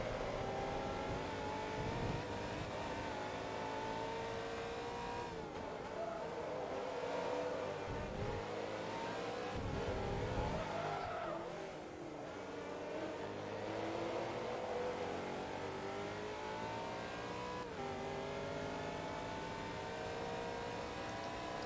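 Race car engine in Forza Motorsport 2 revving and droning steadily throughout, with pitch sweeping up and down through gear changes and cornering, loud and continuous without a break.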